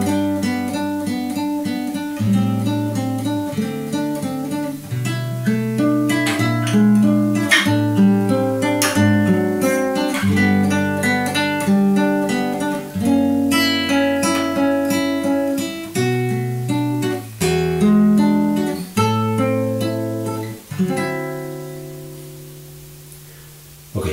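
Fingerstyle acoustic guitar plays measures 10 to 17 of a song, a steady flow of plucked melody over bass notes and ringing chords, close and clear with no talking.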